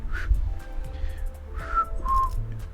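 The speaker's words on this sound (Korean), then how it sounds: "휘파람을 불어라, 단테." Whistled notes from the video game Limbus Company come in short, separate phrases over a low background hum, fairly soft and without speech.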